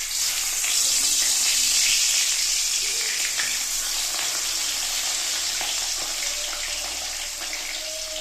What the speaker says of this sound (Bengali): এখন মাছগুলো দুটো করে ভেজে নেব।